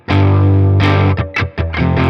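A Fender Kurt Cobain Jaguar electric guitar rings through a Blackstar Amped 1 on a clean tone, with a sustained chord followed by a few shorter strums, loud and close.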